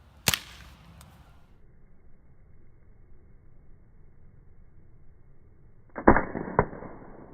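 A paintball gun fires semi-auto from ten feet at hard-boiled Easter eggs: one sharp crack, a long quiet gap, then two more quick cracks close together near the end.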